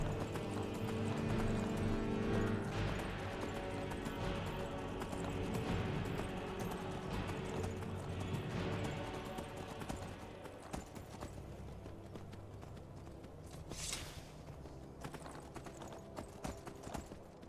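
Horse hooves clip-clop in a steady galloping rhythm while riding in Skyrim, loud and close at first, then easing slightly, with a brief whinny-like burst near the end.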